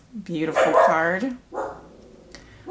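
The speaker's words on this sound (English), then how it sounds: "Excuse my dog barking in the background." A pet dog barks in the background of an indoor room, brief and partly masked by a person talking clearly in the foreground.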